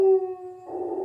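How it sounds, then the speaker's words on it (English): A dog howls in a long, loud, close wail that drops in pitch, then breaks into a rougher, noisier bark-like cry at the end. "Now the dog's barking"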